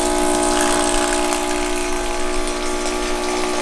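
Spring water pours steadily from a dispenser into a bowl, a continuous rushing, pump-like hiss with a faint hum underneath, close and fairly loud with no pauses.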